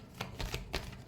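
Tarot cards are given a quick final shuffle, heard as several soft, brief riffling bursts close by and fairly faint.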